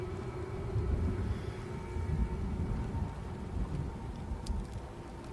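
Steady rain in the video game Banishers: Ghosts of New Eden, a low, continuous rumbling wash with a faint distant roll, even and unbroken throughout.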